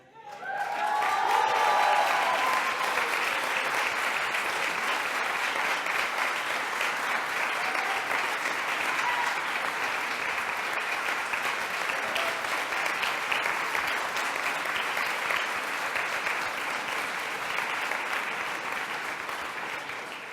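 A large audience gives sustained, dense applause for honorees at a debate tournament gathering, an even roar of clapping holding steady for about twenty seconds after a brief voice at the start.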